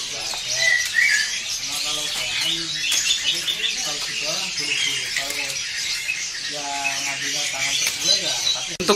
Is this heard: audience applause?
no